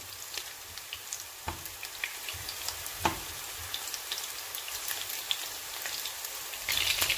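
Chicken pakoras fry in hot oil in a pan as they are stirred and turned, a steady close crackling sizzle with scattered sharper pops and the occasional clink of a utensil, no voices.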